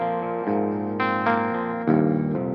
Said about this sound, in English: here's the sound of the amp with everything on the Pod Go bypassed